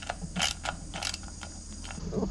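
A hand ratchet works loose the derby cover screws on a Harley-Davidson Fat Bob FXDF, giving several close, crisp clicking bursts in an uneven rhythm, with no talk.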